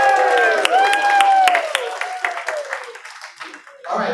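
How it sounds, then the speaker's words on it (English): Scattered clapping from a small crowd, sharp individual claps mixed with voices and a sustained tone that fades out. "Can we have some applause for River?"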